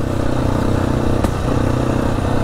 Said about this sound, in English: A bit of a backfire there.